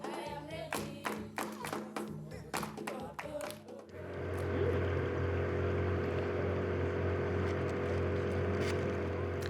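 A motorboat on Lake Bunyonyi heading toward the Rwandan border; a few seconds of sharp taps and knocks give way to a steady, loud outboard engine hum with water rush that carries on to the end.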